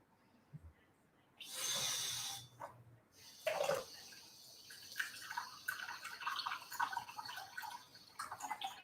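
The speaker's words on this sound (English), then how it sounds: "So I'm just going to wet my hands in some water." Hands dipped and swished in a bowl of water while making Thai fish cakes, a burst of splashing followed by scattered drips and small sloshes, close and fairly quiet.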